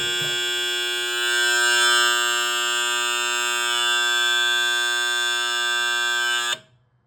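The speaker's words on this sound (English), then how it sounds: "My buzzer turns on" An electromechanical pinball machine's buzzer sounds a loud, steady harsh drone for about six and a half seconds, then cuts off abruptly, leaving a faint low hum.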